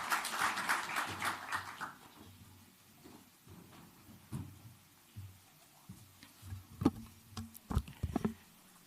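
A conference audience in Nairobi applauds the Cabinet Secretary, a dense burst of clapping that fades after about two seconds into sparse taps and faint room noise.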